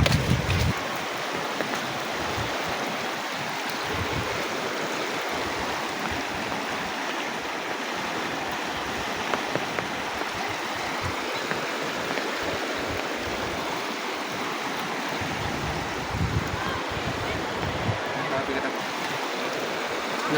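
Floodwater rushes past homes in a loud, continuous broadband roar that stays steady and close throughout.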